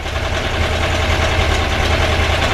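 A 2-litre air-cooled VW engine fitted with a retrofitted distributor runs steadily at just over 2000 RPM, a loud, close, even mechanical drone with a low throbbing rumble and no talk over it.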